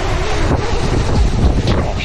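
Strong coastal wind at Fingal Spit roars and buffets against the microphone, a dense rumbling gust with faint surf-like wash underneath, loud and close.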